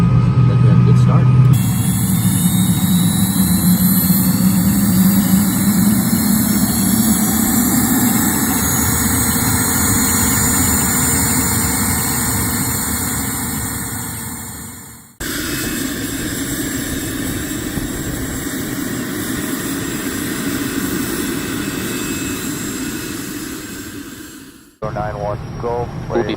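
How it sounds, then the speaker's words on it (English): The engine of a Cirrus Vision Jet G2 starts and spools up: a loud, steady turbine roar carries rising whining tones that climb over several seconds, and the sound briefly drops out twice before resuming. "just press the engine start button. N2 is rotating, NTTs are firing, motors coming up, N1 is now rotating."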